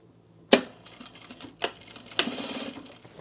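A sewing machine stitches the side seams of a long men's utility jacket. A few sharp mechanical clicks and knocks come first, then a brief, soft running hum starts up nearby.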